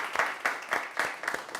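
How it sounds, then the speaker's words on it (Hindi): Students applauding at the IIT Roorkee campus, a brief burst of clapping with several distinct surges of hand claps, moderately loud and fairly close, with no talk over it. "और ये तालियां आप लोगों के लिए"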